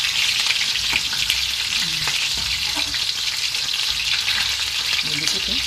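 Tuna fish frying in hot oil in a pan that is not non-stick, giving a steady, loud, close sizzle throughout with a few faint clinks of a utensil.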